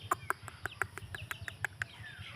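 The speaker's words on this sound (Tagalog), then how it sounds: "May mga manok." Chickens cluck softly around a house, a steady rhythmic series of short calls with faint chirps, low and somewhat distant, with no talking.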